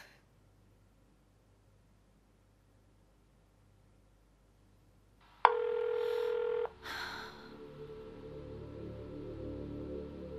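Someone dials a telephone number: after a long quiet stretch, a single sustained tone sounds, then a burst of clicks, followed by a steady line hiss and hum.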